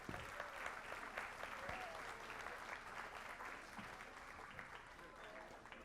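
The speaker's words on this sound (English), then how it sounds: "Let's give this outstanding grandparent another round of applause." Audience at a school board meeting gives a round of applause, an even spread of many hands clapping that holds steady, heard somewhat distant and quiet.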